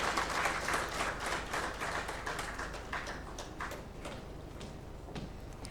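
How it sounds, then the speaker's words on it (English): Audience at an investors' meet in Imphal claps for lady officials doing the honors, a steady, fairly faint patter of many hands that thins slightly toward the end. "Ladies and gentlemen, let's give them a big round of applause."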